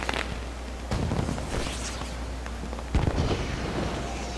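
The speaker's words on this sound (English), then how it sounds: "the fireworks are to set off fireworks in town, such as how you see here" Fireworks burst over a town in the Guild Wars game during a Canthan New Year festival, with several sharp crackling pops and booms scattered over a faint background hum, moderately loud.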